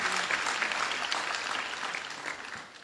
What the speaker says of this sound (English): we must give resounding applause to the teachers